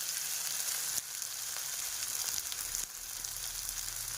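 Spices being lightly fried in a pan for an egg dish, a steady close sizzle and crackle running throughout with a couple of brief stirring shifts, no voices.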